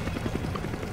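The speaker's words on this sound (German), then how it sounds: "Der Heli hilft uns auch kein bisschen." A helicopter in the zombie video game Resident Evil 5, its steady, fairly loud rotor chop running through the whole second as a continuous low throbbing wash.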